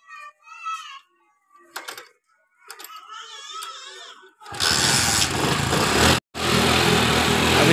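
A motorcycle engine that had water in its spark plug catches and runs after voices talk, settling into a loud, rough, continuous roar with one brief cut-out.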